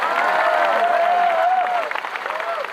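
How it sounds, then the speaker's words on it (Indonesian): A crowd at an outdoor sholawat gathering in Taichung Park, Taiwan, bursts into loud, dense applause with cheering, then eases after a couple of seconds while an amplified voice carries over the clapping. "Kurang kenceng, tepuk tangan."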